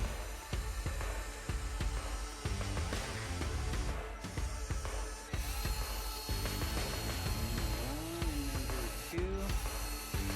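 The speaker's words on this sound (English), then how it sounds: "go ahead and drill your hole." A power drill with a long bit bores a screw hole at a steep angle while a Floyd Rose tremolo is installed on a guitar body, a steady whirring grind with brief pauses and clicks, close and fairly quiet.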